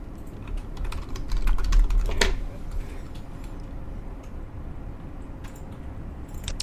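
A name being typed on a computer keyboard while setting up a new item in CRM software: a quick, close burst of key clicks followed by scattered lighter taps, with no voices.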